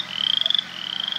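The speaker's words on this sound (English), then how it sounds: "and listen to that frog." A frog croaks from muddy, wet ground outdoors, giving a loud, close, rapidly pulsing trill that runs steadily for just over a second with a brief dip midway.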